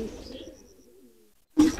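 A low, soft coo from pigeons kept in a cramped coop trails off into near silence before a sudden louder burst closes the moment; no one speaks.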